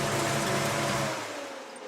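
An Oldsmobile 442 Cutlass muscle car engine idles with a steady low rumble, loud and close, easing slightly softer toward the end.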